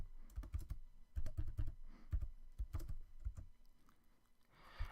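Fingers tap a computer keyboard in quick irregular bursts while a password is entered during an Ubuntu Linux software update, the keystrokes close and crisp with brief pauses between clusters.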